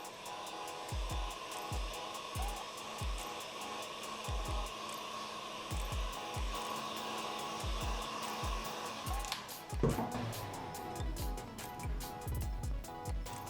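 A heat gun blows steadily over freshly printed screen printing ink on a three-colour halftone print, a continuous hot-air roar with repeated low knocks and clatter nearby, and no one speaking.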